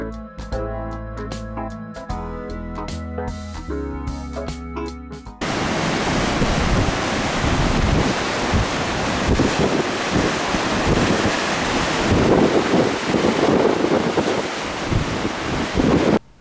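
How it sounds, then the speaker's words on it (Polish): Ocean waves crash against the rocky shore at Porto Moniz, Madeira, a loud, steady roar of surf and wind buffeting the microphone that fills the last eleven seconds after a stretch of music. "fale oceanu rozbijające się o skały"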